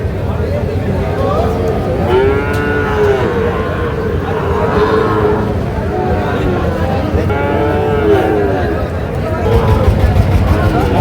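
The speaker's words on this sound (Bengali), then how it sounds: "এর পাশে একটা সেরা মানে শাহিওয়াল ষাঁড় বাচ্চা দেখছিলাম" Sahiwal bull calf at a busy cattle market, several drawn-out moos repeating over crowd chatter and nearby talking.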